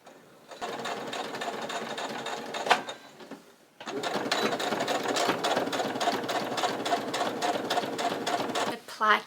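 A sewing machine stitches a blouse placket, running in two steady bursts with a short pause between, close and fairly loud.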